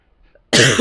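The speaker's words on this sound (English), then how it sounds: "I'm sorry for coughing down the mic." One short, harsh cough bursts out loudly and close after a moment of near silence.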